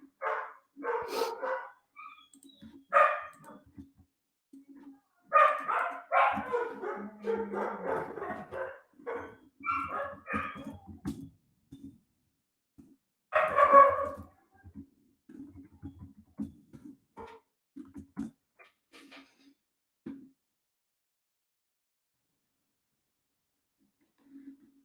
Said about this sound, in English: My dogs are going crazy in the background.